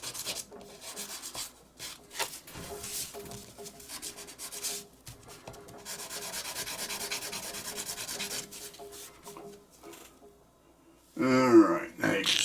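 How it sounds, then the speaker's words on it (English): A metal lighter part from a Zaima Celeste butane lighter is hand sanded with 400-grit sandpaper, giving soft rhythmic scratchy rubbing strokes in bursts with brief pauses, and a voice speaks near the end. "I'm using just a 400 sandpaper, I think here."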